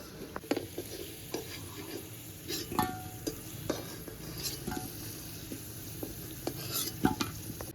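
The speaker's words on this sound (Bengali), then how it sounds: "আলুগুলো আমি একদম লাল লাল করে ভেজে নিয়েছি" Potato pieces fry in hot oil until browned, with a continuous sizzle under repeated stirring and scraping of a utensil against the pan and occasional sharp clinks.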